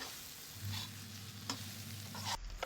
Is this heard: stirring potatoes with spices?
yes